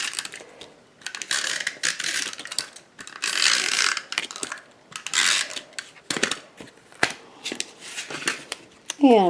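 A snail tape runner lays adhesive on a greeting card during card-making, giving close, scratchy ratcheting clicks and rolling bursts in short strokes, with a voice talking over and between them.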